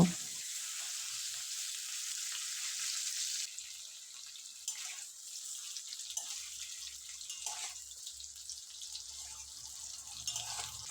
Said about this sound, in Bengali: এবারে পনিরগুলো আমি লাল লাল করে ভেজে নেব